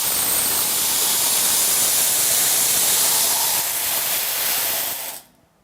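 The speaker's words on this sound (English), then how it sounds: "let's pour them all in and see how we get on" About 8,000 steel ball bearings, each 3 mm, pour into a Tesla valve as a dense, steady metallic rushing hiss that lasts several seconds before cutting off abruptly.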